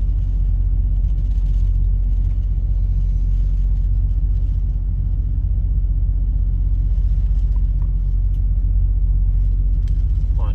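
A deep, steady low rumble of thunder rolls through a severe thunderstorm, loud and continuous for about ten seconds with no voices over it.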